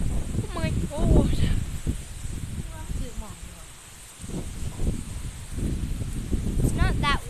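Wind blowing outdoors on a windy day, gusty rustling and buffeting against the microphone, with birds chirping and people talking over it.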